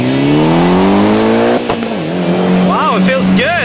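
A Subaru STI race car lapping a track at speed, its engine loud and close, revving high then dropping as it shifts and brakes, with tire squeal and rising pitch sweeps as it powers out of corners.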